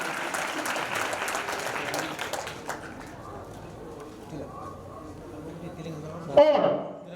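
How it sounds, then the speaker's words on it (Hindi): A crowd claps steadily for about three seconds at a community awards ceremony, then the applause fades away into murmuring and a brief voice near the end. "जोरदार तालियां बालक प्रदीप के लिए।"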